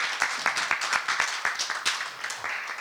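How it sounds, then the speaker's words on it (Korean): Lecture attendees applaud at the close of a Buddhist talk on the Buddha's life, brisk continuous clapping from a room of people, close and fairly loud, with distinct individual claps throughout. "다시 한번 큰 박수 부탁드리겠습니다"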